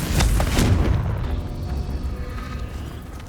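Confringo fire spell cast in Hogwarts Legacy, a heavy booming blast that erupts loudly at the start and then rolls off into a long, rumbling decay.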